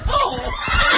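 Close, loud horse whinny with a wavering, breathy rise and fall lasting about a second, in a talk-show setting.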